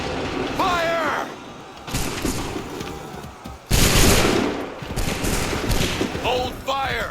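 Musket volleys crack out in Assassin's Creed 3, with several loud, ragged bursts of massed gunfire spread across the moment, the heaviest near the middle, while shouted commands come between the shots.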